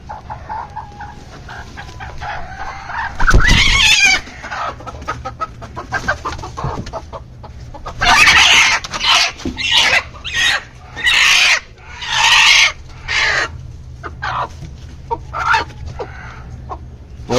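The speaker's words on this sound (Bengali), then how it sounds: "মুরগিটাকে, ধরে আমরা ভেতরে দিয়ে দিব।" Hen clucking loudly as she is placed into a nesting spot for hatching eggs at home, a sharp squawk followed by repeated bursts of agitated clucks close by.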